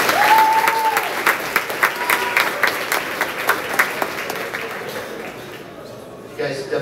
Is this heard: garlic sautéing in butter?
no